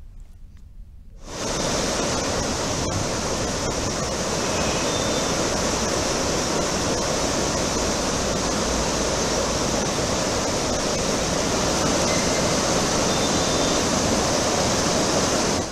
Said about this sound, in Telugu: ఉస్మాన్ సాగర్, హిమాయత్ సాగర్ నుంచి మూసీకి నీటిని విడుదల చేశారు అధికారులు